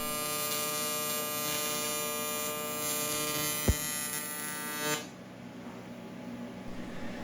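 Aluminum TIG welding on a drain bung for a catch can gives a steady electric buzz with a dense harmonic hum, close and continuous, ending abruptly when the arc stops.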